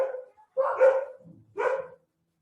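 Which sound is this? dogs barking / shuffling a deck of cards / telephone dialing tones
dogs barking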